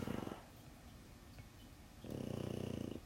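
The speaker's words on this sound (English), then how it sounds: "And a snore as well." Close, rhythmic snoring comes in two bursts, one at the start and a longer one near the end, separated by a quiet stretch of faint rustling. There is no speech.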